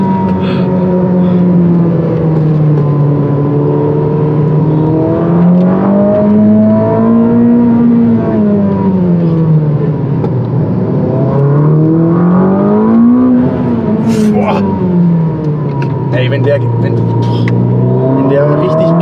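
A 1000 hp Ferrari SF90 hybrid engine with turbos and electric motor drones and rises and falls in pitch as it accelerates hard, a steady loud tone heard from inside the cabin.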